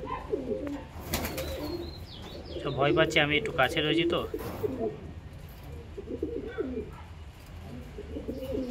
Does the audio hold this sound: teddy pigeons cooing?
yes